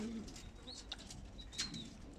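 Brief bursts of wing flapping from pigeons, with a few soft chirps and coos, fairly quiet and close by.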